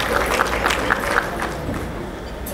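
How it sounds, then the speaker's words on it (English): An audience applauds at an Efik National Association convention in Houston, a steady wash of clapping from a crowd with voices and cheering mixed in, then it eases off near the end. "A round of applause for her,"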